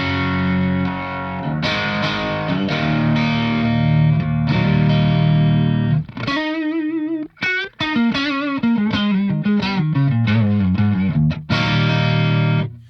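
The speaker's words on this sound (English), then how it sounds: "here's the sound of the guitar" Electric guitar played up close through a Walrus Audio R1 stereo reverb pedal: sustained chords ring out, then quick single-note runs and bends, then more chords, with a warm, effected tone.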